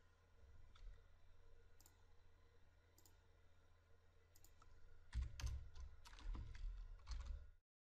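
SQL code is typed on a computer keyboard: a few sparse, faint key clicks at first, then a quicker cluster of taps near the end over a low background hum.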